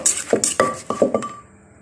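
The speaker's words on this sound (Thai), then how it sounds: "ช่วงนี้จะไม่ใช้แรงตำเยอะนะเพราะว่ามันละเอียดทุกอย่างแล้ว" A pestle striking a mortar as raw bean salad is lightly pounded, about five quick clacking knocks with a knocking, clinking ring, close and fairly loud, then fading to quiet.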